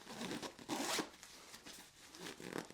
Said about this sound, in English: compression zippers are notoriously hard to zip because they're pulling so much of this material together